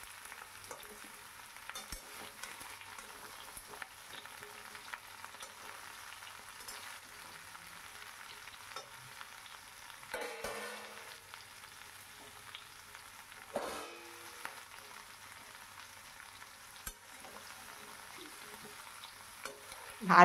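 Mixed vegetables for a Bengali vegetarian panchmishali curry are stirred and turned in a pan, with a soft steady sizzle under repeated scraping and clinking strokes and a few louder knocks near the end, and no talking.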